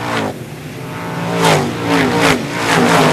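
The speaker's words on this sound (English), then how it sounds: "The three of those cars race for the fifth spot." Short track race cars from the Super Short Track Racing Series in 2014 roar past close by, engines revving and surging in overlapping waves as several cars pass in quick succession.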